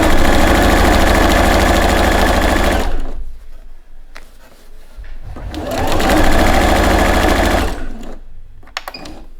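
A sewing machine runs a zigzag stitch in two loud, fast, motor-driven bursts of about three seconds each, separated by a quiet pause with small handling clicks, and a last short whir at the end.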